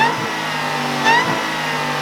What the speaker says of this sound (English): My Whipple supercharger is not a mistake.